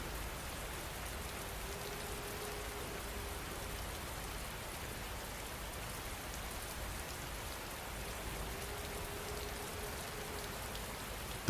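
Steady, even rain falling and pattering on surfaces, a dense continuous hiss with no breaks, moderately loud and close, without any voices.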